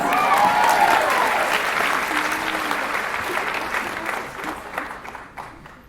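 A graduation audience at the Sacred Heart Academy Class of 2017 ceremony applauds in a sustained wash of clapping that starts loud and slowly thins toward the end, with a faint voice or cheer briefly rising above it.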